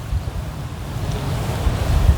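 Wind blowing hard with rain, a steady loud low rumble of gusts buffeting the microphone, continuous and without speech.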